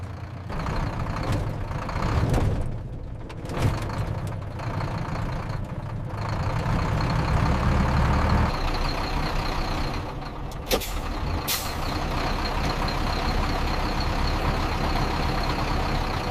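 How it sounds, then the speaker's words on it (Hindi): A heavy truck engine rumbles steadily, growing slightly louder as it nears, with a sharp hiss of air brakes partway through. "कोई भारी गाड़ी आ रही है, ट्रक लग रहा है।"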